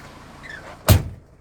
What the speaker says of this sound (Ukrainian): Зараз закрию вікно, закрию двері.